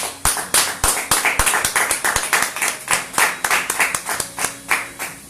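A church congregation claps loudly and rhythmically in praise, a brisk, even run of close hand claps that carries on throughout.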